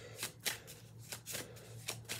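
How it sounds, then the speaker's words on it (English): A blended tarot deck being shuffled by hand close up, with several crisp riffling bursts in an uneven rhythm and no voices. "I already kind of pre-shuffled,"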